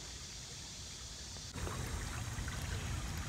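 Creek water trickling beside a wooded mushroom-hunting spot, a steady close wash of flowing water that grows louder and fuller about halfway through, with no voices.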